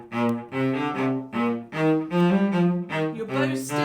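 A bowed string instrument plays the mezzo forte passage of Gordon Jacob's Robots' March in short, separated strokes with a brief swell in the middle, close and clear with no talking.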